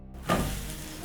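An egg sizzles and fries in a hot pan right after being flipped for a breakfast burger bun sandwich, a steady close crackle swelling briefly as it lands, then holding even.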